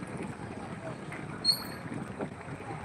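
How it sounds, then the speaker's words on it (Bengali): The strong tidal current of the Ganges rushes past in a steady, washy roar of moving water, with some wind buffeting the microphone close by. "প্রচণ্ড স্রোত জলের"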